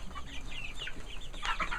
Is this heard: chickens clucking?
yes